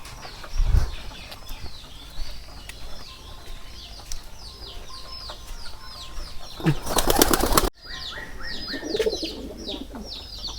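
Pigeon wings flap in a loud burst midway, with chirping birds and occasional clucks around it and a low thump near the start.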